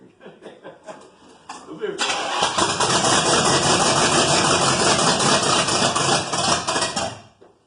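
A Spyder car engine cranks with sputtering turns, then catches after choking and settles into a loud, steady running roar before cutting off; voices talk and laugh over it.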